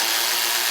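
A power tool with a 12mm socket backs a bolt out just in front of the rear axle of a 2024 vehicle during an air bag suspension install, giving a brief, steady, loud whirring burst.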